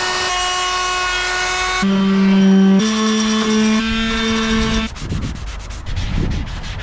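A wooden rocking horse is sanded smooth with a power tool. It makes a loud, sustained whine that steps between several pitches and then changes to a rougher, gritty rubbing toward the end.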